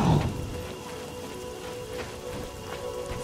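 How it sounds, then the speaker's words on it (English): Steady rainfall in the video game The Elder Scrolls IV: Oblivion hisses evenly and softly throughout, with no voices and only faint surface patter. "Oh, I know it's raining."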